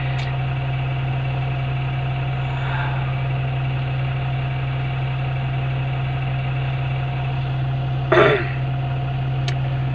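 A Tadano 30-ton crane engine idles with a steady, low, even hum close by, joined by a brief throat-clearing-like noise near the end.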